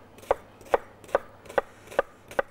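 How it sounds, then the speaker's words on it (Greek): A knife finely chops onion on a board in a kitchen: six sharp, evenly spaced knocks, roughly two per second, close and clear over a quiet background with no talk. "Το κρεμμύδι μας λοιπόν θα το ψιλοκόψουμε εδώ."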